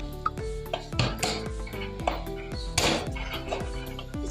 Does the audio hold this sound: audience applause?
no